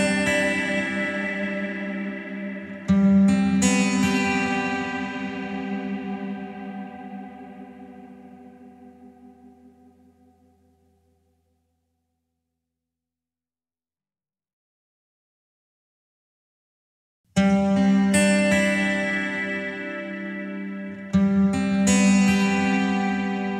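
A rich sustained chord through a Mercury7 modulated reverb washes out into a long shimmering, wavering tail that fades to silence, then the chord returns loud.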